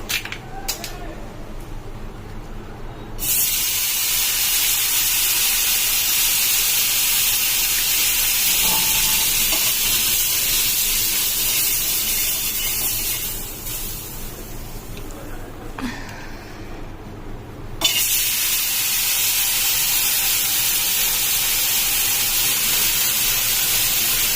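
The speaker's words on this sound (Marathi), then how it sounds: "तोपर्यंत मंद आचेवर आपलं बटर याला लावून घ्यायचं तव्याला" Butter melting on a hot tawa over a low flame for paneer tandoori, heard as a continuous broad sizzling hiss that dips for a few seconds before returning loud and steady.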